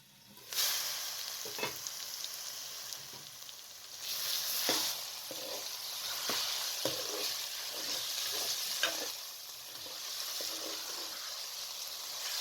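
Potatoes and mustard greens (saag) sizzle steadily in a pan over a medium flame, with repeated scraping stirs and clinks of a spoon cutting through the continuous frying hiss, close and fairly loud, no talking.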